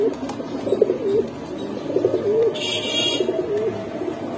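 Pigeons coo at a pigeon seller's loft where red fancy birds are offered, with three distinct rolling coo phrases close by and no speech.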